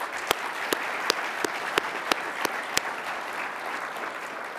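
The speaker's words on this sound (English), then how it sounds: "join me in applauding all of your family and friends" A crowd at a veterinary school Blue Coat Ceremony applauds steadily and fairly loudly for several seconds, with sharper claps standing out at regular intervals.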